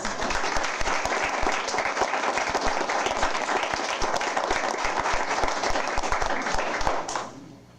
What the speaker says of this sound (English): let's give them all an applause